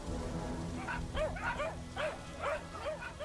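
Puppies give a series of high, yelping barks in quick succession, about six short calls over a few seconds, fairly close and loud against a busy background.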